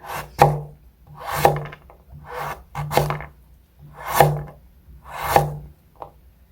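Homegrown beet being sliced into small pieces with a knife, a handful of distinct cuts landing about once a second, each a short woody chop on the board, close and fairly soft with quiet pauses between.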